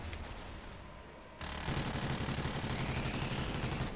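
Enemy gunfire in the Call of Duty: Ghosts Extinction mode bursts in after a quieter opening, becoming a dense, continuous rattle of shots that holds loud to the end.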